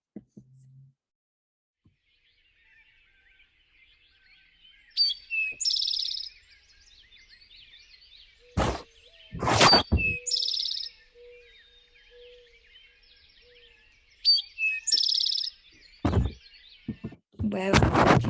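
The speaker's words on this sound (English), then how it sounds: "Here's the Eastern Towie." Eastern Towhee song, bright trilled phrases in a few separate bursts spaced across a quiet stretch, alternating with loud knocking thumps, with a brief voice at the start.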